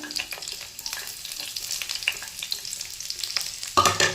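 Garlic and ginger fry in hot oil in a Punjabi home kitchen, a steady close sizzle with scattered crackles and spatters, and a louder burst of spitting and crackling near the end.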